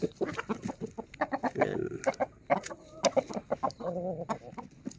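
Backyard chickens cluck close by in quick, irregular bursts as they peck at fed corn, with a brief word spoken once over the flock.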